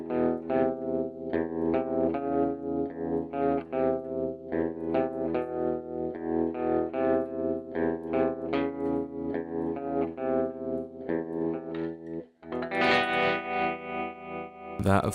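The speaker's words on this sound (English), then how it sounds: "It's a great vintage tremolo sound, the sound that you would have coming out of an old amp." An electric guitar through a Dark Waves tap tempo tremolo pedal gives a vintage amp-style tremolo, notes and chords pulsing in a steady throbbing rhythm with slight distortion, played alone and up close, with a brief gap near the end.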